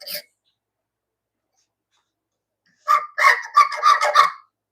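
A turkey call imitates a hen in a workshop, giving a quick run of raspy yelps after a short sound and a long silence, close and fairly loud.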